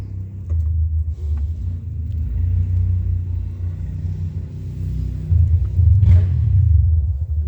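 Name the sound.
motorcycle riding past in the snow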